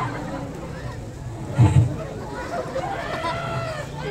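A person imitates a chicken with a short, loud squawking cluck in the middle, surrounded by ongoing talk and background crowd babble.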